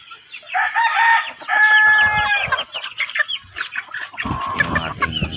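A backyard Sweater gamefowl rooster crows loudly and close by in two long drawn-out calls, followed by clucking and shuffling farmyard noise.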